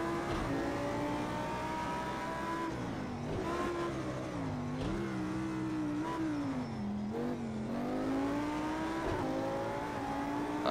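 An Audi R8 road car in a racing game accelerates out of a corner at Bathurst, its engine revving up and down in a loud, continuous drone with shifting pitch and no talk.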